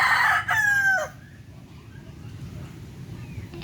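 A rooster crows once, close and clear, on a small backyard farm, the call cut into two bursts and then fading into low ambient rumble.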